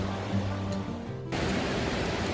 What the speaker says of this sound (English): the river is just raging below us